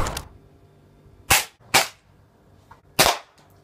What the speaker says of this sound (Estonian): praegu allegedly, hypothetically võibolla hakkame püssi laskma